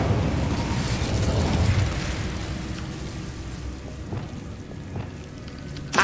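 Incendio fire spell cast in the Hogwarts Legacy video game: a loud whooshing, crackling burst of flame that fades into a steady rain-like hiss with a few small pops, and no voices.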